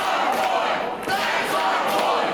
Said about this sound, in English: Crowd chanting, "That's our boy."